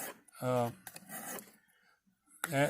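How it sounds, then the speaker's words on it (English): A hand file rasping against the metal of a nipper tool during maintenance, a few short scraping strokes close by, with someone talking between them. "Just like your rasp only cuts in one direction, so does a file."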